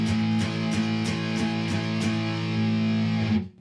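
A distorted punk electric guitar is strummed in quicker even strokes, about eight to the bar, as a loud held chord that stops suddenly at the end.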